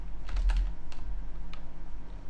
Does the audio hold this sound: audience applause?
no